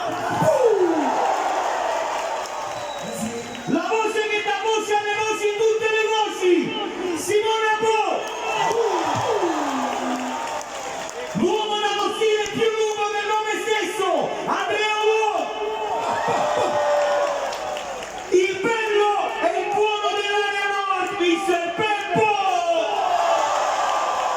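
A live concert crowd at an outdoor May Day show in Naples cheers and whoops in swelling bursts, with a loud announcer's voice over the noise throughout.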